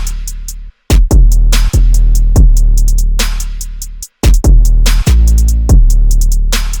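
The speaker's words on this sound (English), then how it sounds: "next up are these hard-hitting drums" Hard-hitting drums from the Arcasenia drum kit by Tri-Freeze, programmed for a high-energy beat in FL Studio, pound in loud, booming bass-heavy hits with sharp attacks, a couple of sudden dropouts, and rapid repeated transients.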